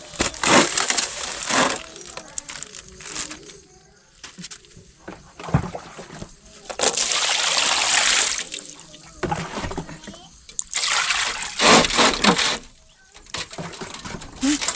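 Pork being washed with water while cooking outdoors, giving splashy, sloshing bursts of water that come and go in several loud stretches, with people talking at times.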